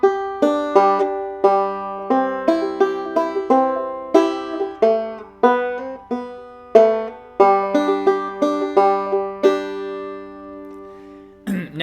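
Banjo picked two-finger thumb-lead style, clawhammer player's approach, playing Skip to My Lou; a bright, plucked melody of quick, evenly spaced notes with ringing decays, alone and close.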